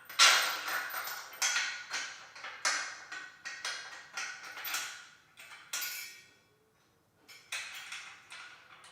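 A ratchet fitted with a 17mm socket tightens a bolt on a weight bench, giving repeated short bursts of clicking in uneven strokes with brief pauses, close and fairly quiet.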